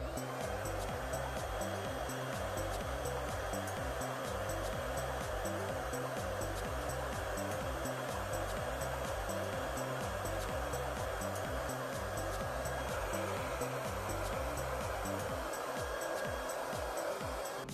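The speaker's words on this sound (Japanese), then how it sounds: "まずはこちらからこっちに向かってドライヤーを当てていきます。" A hair dryer blows steadily on hair during a salon-style volume styling, a continuous loud airy roar with a low motor hum running unbroken from start to finish.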